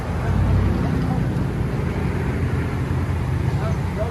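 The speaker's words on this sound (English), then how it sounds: "Ram 1500 Dynomax race bullet." A RAM 1500 pickup with the 5.7L HEMI V8 and a Dynomax Race Bullet exhaust with resonator delete rumbles in a constant deep, loud drone, close and steady throughout.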